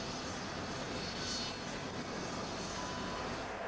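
Steady broadband roar of the Kuiper Airborne Observatory aircraft in flight, heard from inside the cabin as a continuous dense rumble and hiss with no breaks.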